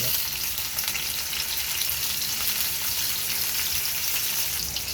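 Garlic and onion sauté for lomi, producing a steady, even sizzle of frying throughout with faint stirring underneath.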